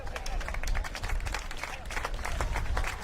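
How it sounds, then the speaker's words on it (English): Local supporters at an Australia Cup soccer match clap and applaud steadily for a substituted player walking off, dense crowd clapping filling the whole moment at close range. "he has been rightly applauded by the locals"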